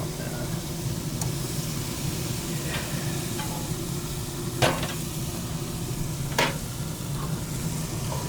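Cremini mushrooms sizzle in butter and garlic on a cookout, a steady close crackle with a few sharp utensil clinks against the pan.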